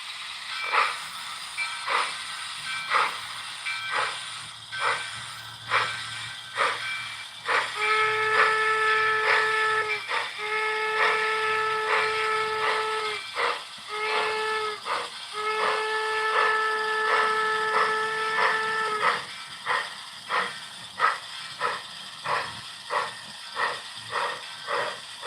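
A steam locomotive's whistle gives several long, loud, steady blasts, with rhythmic hissing chuffs before and after and no talking.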